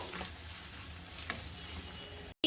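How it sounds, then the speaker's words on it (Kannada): Chopped onion sautéing in oil for onion capsicum gravy, a soft, steady sizzle with light stirring clicks, fairly quiet, cutting to brief silence near the end. "ಈರುಳ್ಳಿನ ಚೆನ್ನಾಗಿ ನಾವು ಬಾಡಿಸ್ಕೊಳ್ಳೋಣ ಈರುಳ್ಳಿ ಚೆನ್ನಾಗಿ ಮೆತ್ತಗಾಗಬೇಕು"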